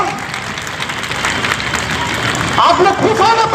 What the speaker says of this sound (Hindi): एक बार अपने लिए भी जोरदार ताली बजाइए